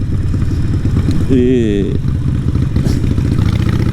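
A Harley-Davidson 883 Iron bobber fitted with a Vance & Hines exhaust thumps with a low, lumpy rhythm at close range, with speech overlapping throughout.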